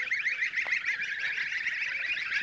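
A flock of geese honking repeatedly and overlapping, a busy chorus of nasal calls nearby with no talking.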